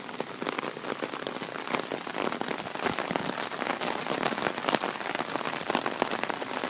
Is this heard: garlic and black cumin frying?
no